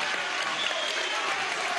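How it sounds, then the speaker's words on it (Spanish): Graduating teachers and student youth leaders at a Venezuelan Micromisión Simón Rodríguez ceremony keep up a full, sustained round of clapping, steady and fairly loud, with light crowd noise beneath it. "Un aplauso."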